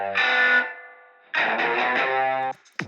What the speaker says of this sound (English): That's a pretty neat guitar.